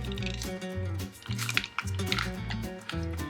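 A sealed bag is pushed down into hot water to force the air out, giving wet squishing and gurgling bursts, fairly close, under a soft rhythmic background.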